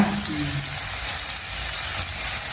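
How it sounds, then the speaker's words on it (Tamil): Onions sizzling in a hot pan while cooking Jaffna-style idiyappam kothu, a steady broadband frying hiss throughout with a brief faint voice near the start. "அம்மா இப்போ வெங்காயம் வந்து போடுறாங்க"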